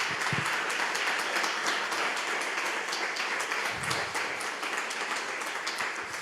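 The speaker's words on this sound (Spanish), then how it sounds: "Dale otro fuerte aplauso al Señor," A church congregation applauds during a Spanish-language sermon, a broad, continuous wash of many hands clapping, somewhat distant and steady for several seconds, with no voice over it.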